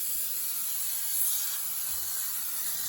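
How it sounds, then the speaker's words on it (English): A handheld steamer hisses hot steam onto surfaces inside a DIY glove box, a steady, close, unbroken spray without speech. "I have both my steam, and I'm just going to hot steam all the surfaces."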